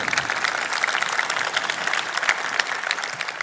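Graduation audience at a high school commencement breaking into sustained applause, a dense steady wash of many hands clapping, fairly loud and continuous throughout.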